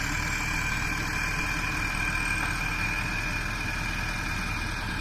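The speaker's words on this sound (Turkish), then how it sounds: "Bahçeyi sürmeye başladı." A tractor plows a garden, its engine running at a steady, droning rumble close by, with a constant mechanical vibration and no speech over it.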